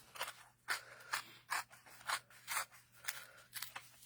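Paper or similar material torn by hand along lined-up edges for a craft project, heard as a steady series of about eight short ripping strokes, close and fairly quiet with no voices.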